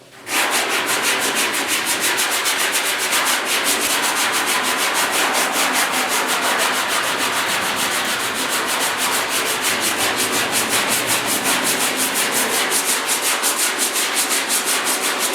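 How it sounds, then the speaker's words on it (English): Sandpaper is rubbed by hand over the bodywork of a 1956 Mercury cab in fast, even back-and-forth strokes, a loud, close, rhythmic scratching that runs steadily throughout with no talking. "Sometimes you got to fold up a little piece of sandpaper to get into the tight spots."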